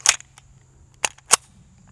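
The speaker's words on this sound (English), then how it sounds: "All right, let's do some shooting." Three sharp 9mm shots from a Ruger P95 polymer pistol fired outdoors at hanging steel plates, one crack followed by a pause and then two more in quicker succession, loud and close with a faint low hum between.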